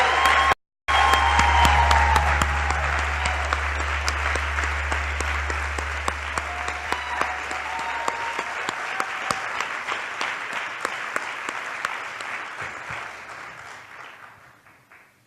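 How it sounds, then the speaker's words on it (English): A crowd applauds the new seventh president of Norfolk State University with sustained, dense clapping and some cheering, loud at first and gradually thinning before fading out at the end. "Can we give him another round of applause?"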